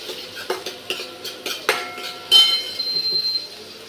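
Onions stirred in a pan of melted butter with cumin and green chillies, a spoon clinking and scraping against the metal in a steady series of taps, with only a faint sizzle underneath and no talking.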